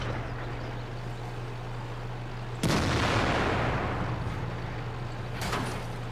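Tank cannon fire in World of Tanks heavy-tank gameplay, with a Tiger (P) in battle: one sharp, loud blast that rolls into a long rumbling decay, followed by a fainter second shot near the end over a steady engine hum.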